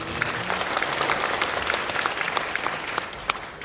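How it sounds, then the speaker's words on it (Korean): An audience claps warmly to welcome a speaker to the podium at a Korean church prayer rally and press statement on Christian school teacher appointments. Steady, dense applause fills the whole stretch without a break. "박수로 맞아주십시오"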